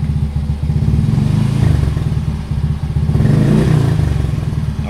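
A motorcycle engine revs up close and loud, a steady throbbing idle rising and falling as the throttle is opened, with rattling clatter underneath.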